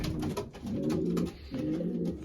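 Racing pigeons at a home loft give two drawn-out, close cooing phrases, low and throaty, with a short pause between them and no talk.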